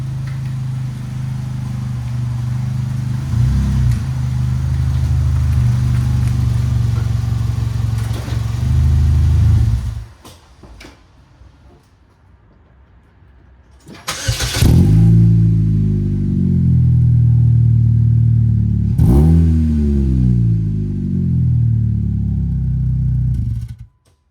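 Saturn Vue being driven into a garage while it has exhaust trouble: a steady, loud engine rumble, a short quieter pause, then the engine revving and idling again before cutting off abruptly at the end.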